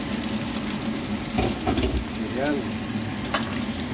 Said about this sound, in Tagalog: Tapos pan-fried lang natin to guys, mga 2 minutes.